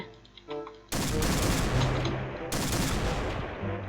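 Shotgun firing in the Minecraft Extraordinary Weapons mod, heard as a loud broad blast at about one second and a second blast near 2.5 seconds, each with a dense rumbling tail, following some quieter game sounds.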